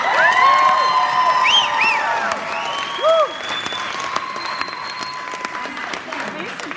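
A live audience at the London's Got Talent 2017 grand final applauds a band, with steady, loud clapping mixed with cheers and high whoops that fade into a lighter patter.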